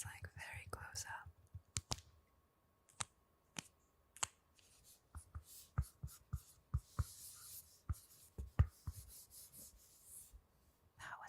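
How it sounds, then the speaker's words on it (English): Close-up scratches of a pen signing a vinyl record sleeve, dry scribbled strokes and quick taps in short bursts separated by pauses, very near and intimate, with soft breathy whispering early on. "That was the sound of my signature"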